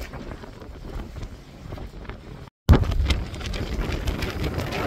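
Wind gusts buffet the microphone at a mountain summit on a hike, a steady rushing roar that cuts out briefly and then returns louder, close and rumbling.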